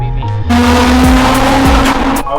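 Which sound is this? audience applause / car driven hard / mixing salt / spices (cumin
car driven hard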